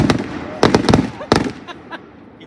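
Fireworks burst at night in a quick series of sharp cracks and pops, several loud explosions clustered close together, with voices faintly underneath.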